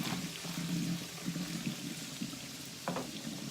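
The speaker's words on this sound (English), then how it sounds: "We're going to remove the hot water." Hot water pours off freshly cooked pasta while it is drained, a close, steady splashing stream with a few brief gurgles toward the end.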